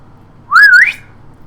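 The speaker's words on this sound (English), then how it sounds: "She puts 2 fingers in her mouth and she whistles." A loud, sharp two-finger whistle from a woman, a single rising-and-falling blast lasting about half a second against quiet background.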